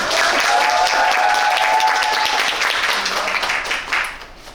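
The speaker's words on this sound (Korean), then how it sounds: "박수 한 번 크게 주시면감사할게요" A theater audience claps steadily at a curtain-call stage greeting after a play's closing performance, in a dense, continuous wash of applause that slowly thins out toward the end.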